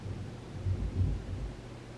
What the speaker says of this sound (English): Oh, that was thunder.